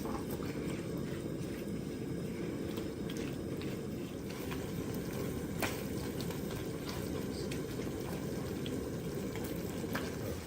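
Spinach and cream sauce simmers in a pan as a continuous low bubbling and faint sizzle, steady and unbroken throughout.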